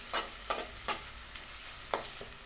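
Chopped country tomatoes sautéing in a pan for a quick kuruma, with a soft steady sizzle and several sharp spoon scrapes and stirs at uneven intervals, close and fairly quiet.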